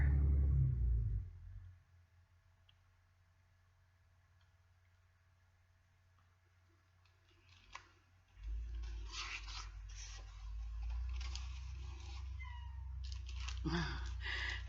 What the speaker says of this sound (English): That's Cleo, our cat